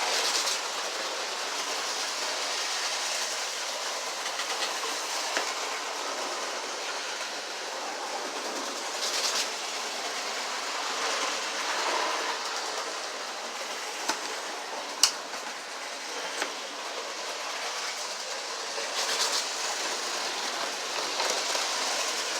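S-gauge model train with a slightly stiff rebuilt motor running on track, a continuous soft whir and rolling rattle with occasional small clicks, steady and close.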